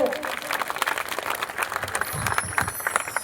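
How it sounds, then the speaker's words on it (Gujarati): Applause from a crowd at a community meeting, a dense, continuous patter of many hands clapping, moderately loud, with voices mixed in. "તાળીઓના ગણગાટથી ફરી વખત વધારીશું"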